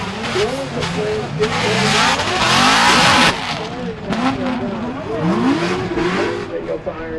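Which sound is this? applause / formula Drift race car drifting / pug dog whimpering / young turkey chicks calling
formula Drift race car drifting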